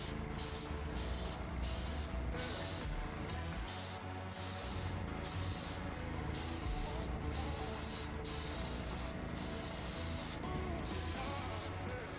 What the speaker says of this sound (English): a quick sample of the application with the spray gun